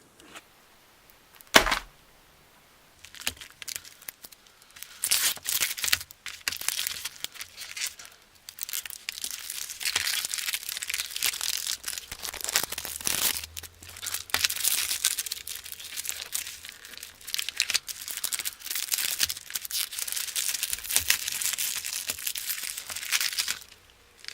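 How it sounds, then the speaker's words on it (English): Plastic wrap is torn and peeled off a Doctor Who Big Finish audio release, giving close, loud bursts of crinkling and crackling with brief pauses, carrying on almost continuously after an initial sharp rip. "I actually recorded a video of me opening it and unwrapping it from the plastic"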